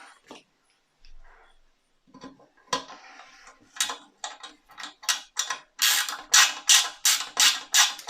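Small machine screws being driven into the middle chassis of a Ghostbusters Ecto-1 model kit: quiet scattered clicks at first, then a steady run of close, loud ratcheting screwdriver clicks in a regular rhythm, with no talking.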